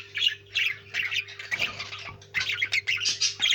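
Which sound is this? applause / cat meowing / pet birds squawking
pet birds squawking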